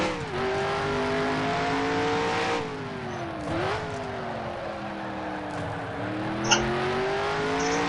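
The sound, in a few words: stock car engine revving during a lap in the video game Nascar Heat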